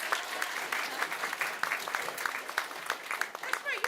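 Audience at a city school board meeting applauds a student, steady dense clapping throughout with a few louder individual claps standing out near the front.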